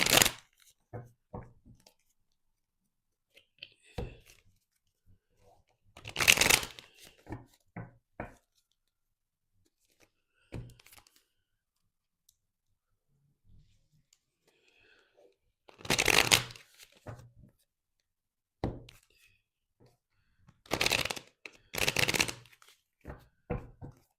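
Tarot cards being shuffled in several separate bursts of crisp riffling and flapping, close and fairly quiet, with soft taps and handling noises in the pauses between.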